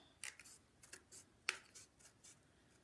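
Scissors snip through green paper in a few quick, crisp cuts while preparing a 3D card, faint and close in a quiet room.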